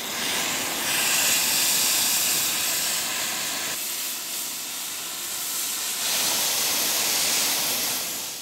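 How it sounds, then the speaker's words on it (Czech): Hot steam from a cleaning jet hisses steadily against the stone pedestal of the Bedřich Smetana statue in Litomyšl as restorers strip away dripped candle wax, a loud, broad rushing that swells and eases in waves. "Zde pomáhá horká pára."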